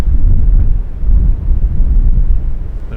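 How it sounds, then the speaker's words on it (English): Strong wind buffeting a microphone outdoors at night in the Fens, a continuous loud low rumble that surges and eases without pause. "It's quite windy here in the Fens tonight"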